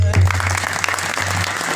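A crowd at a devotional singing gathering claps together, a thick, sustained wash of hand claps heard close and loud, joined by a low steady hum beneath, continuing without pause.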